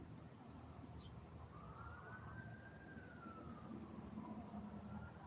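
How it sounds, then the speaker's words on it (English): A distant police siren slowly wails up and down, faint beneath a constant low rumble of traffic and background noise. "I can kind of tell the difference in the troopers and the local police. by their sirens"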